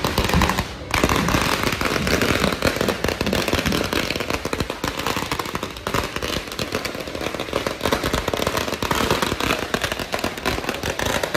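Firecrackers burst during a Ganpati immersion procession in Dombivli in a loud, dense, rapid crackling barrage of pops that continues without a break.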